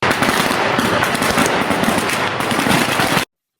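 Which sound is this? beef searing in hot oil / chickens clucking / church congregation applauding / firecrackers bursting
firecrackers bursting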